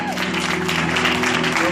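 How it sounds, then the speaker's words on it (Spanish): A church congregation claps loudly for God during a Spanish-language sermon, dense sustained clapping with a steady tonal hum underneath and possible voices mixed in. "Dale palmas a Dios. Fuerte."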